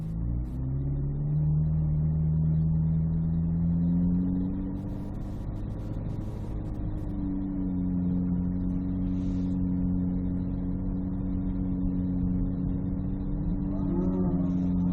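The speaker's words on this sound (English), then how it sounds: "All right, Tyler, go ahead and start your run." A C8 Corvette Z06 runs an autocross course with a steady mid-pitched engine drone that rises and dips as the throttle changes. An instructor's voice can be heard over the engine.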